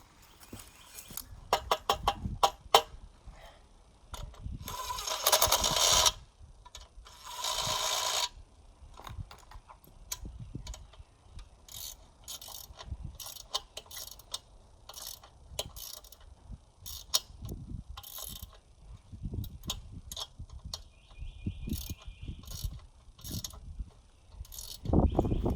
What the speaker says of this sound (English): Let's get our wrenches and tighten it down.